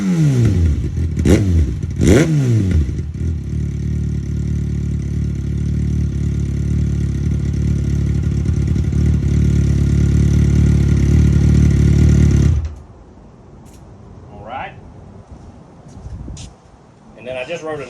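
A 2023 Kawasaki ZX6R fitted with an M4 GP19 slip-on exhaust revs sharply twice, then idles loudly and steadily for about ten seconds before cutting off, leaving faint background noise.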